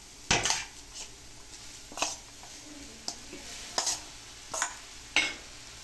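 Ingredients for an elephant-foot yam leaf thoran being stirred in a pan, with a spoon scraping and clinking against the metal in several separate sweeps and a light sizzle underneath, close and fairly quiet.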